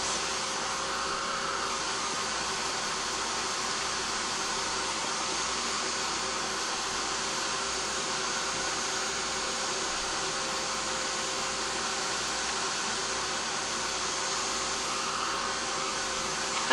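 A hair dryer blows continuously at close range to dry a layer of a handmade card, a steady loud broadband whoosh with no breaks.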